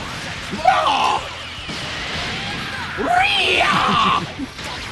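A fighter in Dragon Ball FighterZ lets out two long, strained battle screams, the second louder and sustained, with impact and whoosh effects from the fight mixed in.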